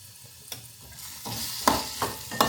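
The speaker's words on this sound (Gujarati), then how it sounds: "આપણે મરચાં અને મેંગો સાથે બધું મિક્સ કરી દીધું છે" A spoon stirs mango chutney with chilies in a pan, giving three or four distinct scraping strokes over a soft background sizzle, close and alone with no voices.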